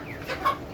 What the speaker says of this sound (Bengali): এই যে একটা টাইগার মোরগ, কত সুন্দর দেখেন।